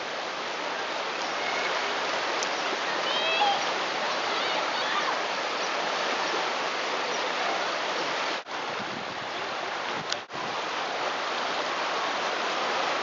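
Water on the Kern River rushes in a steady, broadband wash like a stream over rocks, continuous and fairly close.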